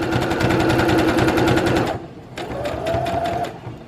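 A sewing machine stitches washable fabric wipes in a steady rapid run for about two seconds, then stops and restarts with a shorter burst of reverse stitches, close and clear with no talk.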